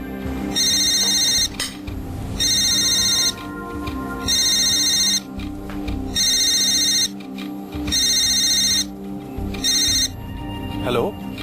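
A telephone rings in a home in a repeating electronic pattern of loud bursts, each about a second long, with gaps in between. Background noise and a faint voice run underneath.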